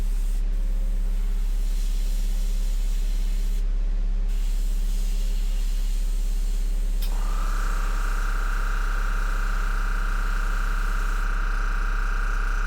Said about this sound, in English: You spray above or below where you want because you're really counting on that outer edge of the spray to create that gradient